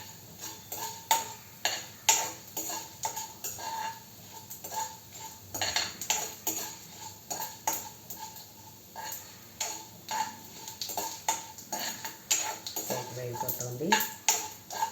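Green chillies, ginger and curry leaves fry in a pan for papaya curry, with repeated metallic scrapes and clinks of a spoon stirring against the pan over a soft sizzle, fairly close and steady throughout.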